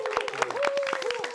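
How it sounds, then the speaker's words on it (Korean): A few people clap during a church small-group Bible study meeting to applaud the panelists, with scattered, light claps running under a speaking voice throughout. "우리 세 분의 우리 그 패널들이 우리 박수를 한번."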